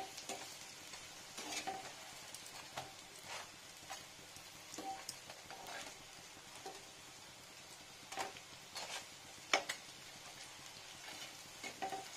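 Pumpkin flowers with green chilli, dipped in gram flour batter, deep-fry in hot oil with a soft steady sizzle, scattered pops and occasional stirring taps, faint and unaccompanied by speech.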